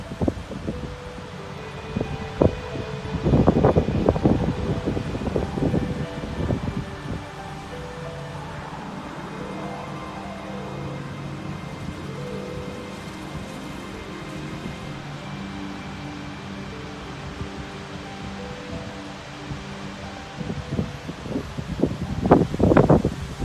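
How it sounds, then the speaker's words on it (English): Gusty Oklahoma wind blows outdoors at a duck pond, buffeting the microphone in loud bursts at the start and end with steadier rushing and rustling between. "the Oklahoma wind was creating havoc for these little swimmers"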